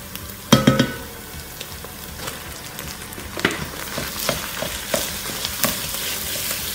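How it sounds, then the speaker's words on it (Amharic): Ground meat and onions sizzle in hot oil in a pan, with crackling pops and scraping stirs throughout, a close, busy frying sound with no speech. "ዘይት ጨምራለሁ። ኦኬ ሽንኩርት ተጠብሷል። ስጋዬን ጨምራለሁ።"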